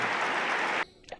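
Audience clapping, a dense wash of many hands at moderate level that cuts off abruptly, followed by a faint short sound.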